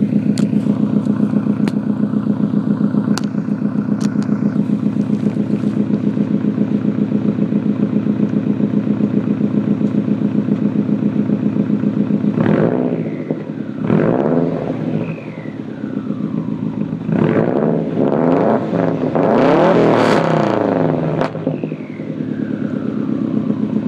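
A 2005 Subaru Legacy with a 3-inch mandrel-bent straight-pipe exhaust, high-flow cat and no muffler, on a cold morning near 30 degrees, idles with a loud, steady rumble, then gets several sharp, close throttle revs.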